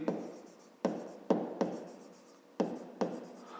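Pen strokes scratch across paper during a handwritten math exercise, in six short bursts that each start sharply and then trail off, close and quiet with no talking.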